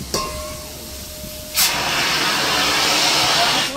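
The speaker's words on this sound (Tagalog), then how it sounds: "Yan, oh, malakas ng apoy." A strong fire roars during firefighting training at a Philippine merchant marine academy. A thin tone and hiss give way to a sudden loud burst of broad, steady roaring that fills the rest of the clip.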